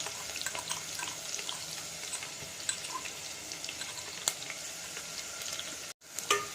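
Crushed garlic frying in a pan gives a steady close hiss and sizzle with faint crackles and a brief clatter, continuous throughout.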